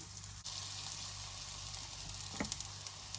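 Vada batter is scooped into a pan to cook, giving a faint, soft sizzle with a few light clicks and pops near the end and no talking.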